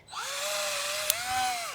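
A handheld power drill whines steadily in a garden allotment, its pitch rising slightly near the end as the bit gives way, with a brief sharp click partway through.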